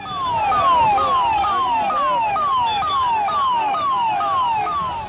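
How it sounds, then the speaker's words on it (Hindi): An ambulance siren wails loud and close on a road, repeating a falling sweep about every half second without pause and with no voices. "दोपहर को पोस्टमार्टम के बाद अब संदीप गुप्ता के शव को एम्बुलेंस में घर के लिए ले जाया जा रहा था"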